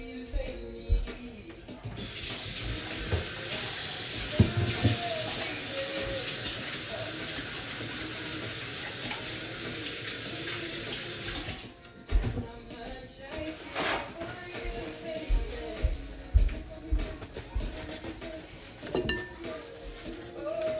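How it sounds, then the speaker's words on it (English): Hands are washed under a running kitchen tap, a steady close rush of water lasting several seconds, with dishes and cutlery clinking around it and brief background sounds after the water stops. "Let me wash my hands."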